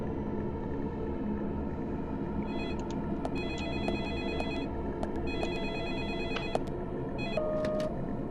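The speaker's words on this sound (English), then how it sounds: "We know the story can't proceed before we answer the phone" A telephone rings in the video game Deadly Premonition, electronic ring bursts repeating in regular clusters over several seconds above a constant low background hum, with no voices.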